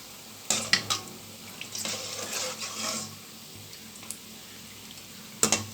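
Khajur, a fried Tamil sweet, cooking in a pan with a quiet sizzle under clinks and scrapes of a metal utensil, bursts of stirring clustered near the start and end, no talk.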